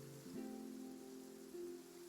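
Steady rain in the video game Genshin Impact, a continuous soft wash of falling water under faint tonal music, with no talk.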